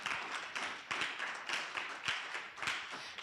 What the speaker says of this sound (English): maybe give yourselves a round of applause.